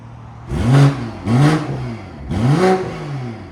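A 2022 BMW M340i with a 3.0L turbo inline-six and a Valvetronic downpipe-back exhaust revs hard three times with the valves open. Each rev is a loud, rising then falling exhaust blare, heard close with no voices.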